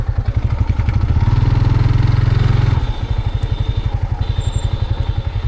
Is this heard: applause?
no